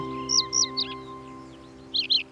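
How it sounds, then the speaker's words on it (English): Baby sparrows in a children's cartoon chirp in short, high bursts: a quick cluster of three or four tweets, a pause, then two more, over a sustained musical drone. "Hello, baby sparrows."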